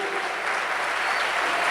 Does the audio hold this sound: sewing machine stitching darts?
no